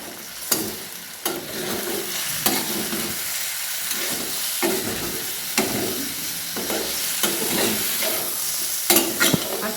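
Chopped tinda (round gourd) with turmeric, garam masala and coriander powder fries in a pan, a steady sizzle broken by regular scraping stirs of a spatula every second or so, close and alone.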